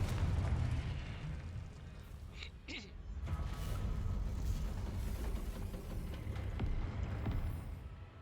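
A Confringo fire spell from the Hogwarts Legacy video game bursts in a dense, loud run of explosive booms and crackles, rumbling continuously over a game soundtrack with sharp pops scattered throughout.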